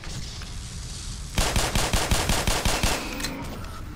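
Automatic weapon fire in Black Mesa, a steady burst of about a dozen loud close shots in quick rhythm, set against a constant background wash.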